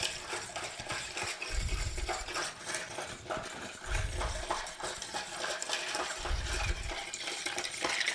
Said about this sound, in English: And you want to stir it until you can start to see a lot of frosting on the outside of your cocktail shaker.